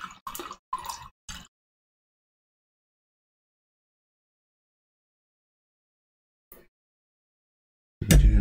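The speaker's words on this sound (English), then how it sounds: "You do get a nice little noise when you pour it out." Wine poured out of a glass or pitcher, giving a few short wet splashing bursts at the start, a tiny drip after a long silence, and a louder splash at the very end.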